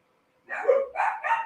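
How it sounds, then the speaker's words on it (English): Dogs bark indoors, several close, loud barks in quick succession after a short silence, with no talking over them. "They barking at something. They've been barking all day."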